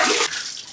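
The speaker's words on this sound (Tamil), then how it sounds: "புது தண்ணி ஆட் பண்ணிருக்கோம்" Fresh water pours from a pipe into a fish tank: a loud, close, steady gushing splash for a fraction of a second, then a softer trickling wash as the flow continues.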